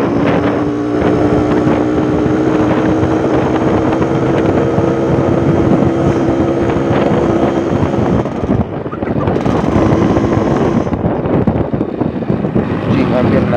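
A Yamaha RX King 135cc two-stroke motorcycle engine drones loudly and steadily while riding, with wind rush over the microphone and a brief dip in revs partway through.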